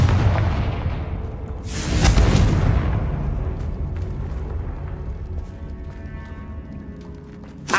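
In Hogwarts Legacy, a Confringo fire spell bursts with a loud, sharp explosive boom. The blast trails off into a fading rumble and scattered crackles, with no one speaking.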